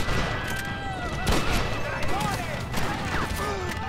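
Rapid minigun fire and explosions from the Red Dead Redemption video game, dense crackling bursts that continue through most of the stretch, with voices shouting over the shooting.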